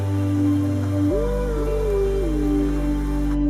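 Steady rain falls through a dark Hindi horror story scene on the way to a factory at night, a soft continuous hiss beneath low, eerie droning tones that bend and glide in the middle.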